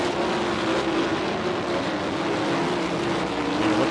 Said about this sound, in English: Hits the throttle, Shane Cottle.